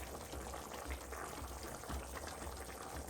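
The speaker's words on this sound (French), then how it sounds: "laisser mijoter le tout pendant 20 minutes" Beef and potato stew simmering in a pot, a steady low bubbling and gentle liquid burble that stays even and fairly quiet throughout, with no talk.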